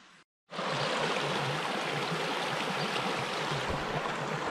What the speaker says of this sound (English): Nature, the babbling brook type of stuff.